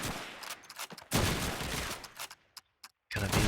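Gunfire in a Call of Duty 2 match on the Toujane map, with several sharp bursts of rifle and automatic fire close by, separated by brief pauses and quiet gaps.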